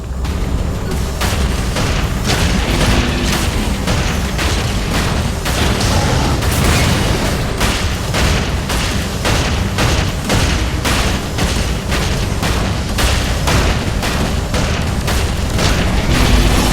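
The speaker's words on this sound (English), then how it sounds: "It's a gun arm, man." Rapid gunfire from a gun arm weapon in the Saints Row 4 video game, a dense run of booming shots repeating steadily for the whole stretch, loud and close with no talk.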